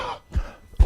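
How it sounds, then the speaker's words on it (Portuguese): A man coughs into a microphone during a health administration conference talk, giving two short, close, punchy coughs about half a second apart. "eu tenho que parar para tossir"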